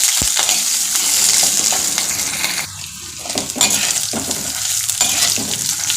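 Fresh curry leaves and sliced coconut fry in a hot pan with a loud, constant sizzle, broken by scraping stirs and the clink of a utensil against the pan; no one speaks.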